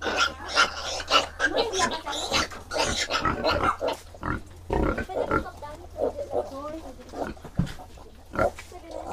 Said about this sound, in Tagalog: paalaga kong baboy, guys.